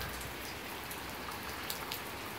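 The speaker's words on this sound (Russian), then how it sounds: "Ливень." A heavy downpour in Antalya drums on a car, with a dense, constant patter of raindrops striking the roof and a plastic film covering, plus a few sharper drips standing out.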